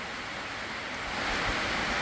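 Heavy rain driven by wind at a rural Thai home, a continuous broadband roar that swells slightly toward the end, steady and close with no voices.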